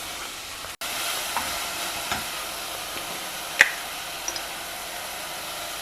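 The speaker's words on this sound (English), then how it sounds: "half a carrot and 1 tomato, all chopped. Fry all these vegetables together." Chopped carrot, tomato and capsicum fry together in a pan for an Indian vegetarian breakfast, giving off a steady close hiss. Occasional small crackles and pops punctuate the sizzle, with no talking.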